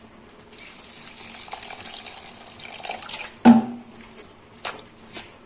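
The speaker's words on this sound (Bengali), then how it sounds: "এবার দেবো এর মধ্যে জল।" Water trickles into a semolina and yogurt mixture in a bowl, followed by a few wet splashes and a sharp knock, close and fairly quiet.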